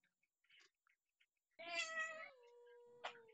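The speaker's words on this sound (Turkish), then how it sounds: "Oğlum şu kedini sustur ha." A cat meows in the video game Green Hell, a few faint scattered sounds followed by one drawn-out meow and a second shorter one, quiet and alone.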